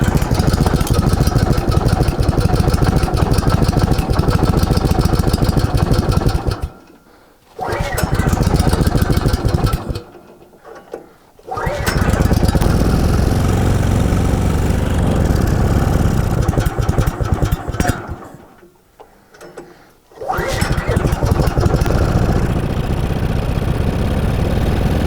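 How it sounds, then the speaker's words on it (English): Woodland Mills HM130 bandsaw sawmill engine started and idling, a close steady mechanical chug broken by several brief shutdowns or quiet gaps before it resumes running. "Actually fire the engine up first."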